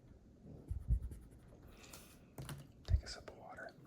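An erasable pen scratches across paper in short strokes, with soft bumps and faint whispering between them, close and quiet.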